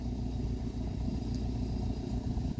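A tractor hauls a heavy seedbed cultivator while preparing a field for wheat sowing, its engine laboring in a steady, low, close rumble with no voices.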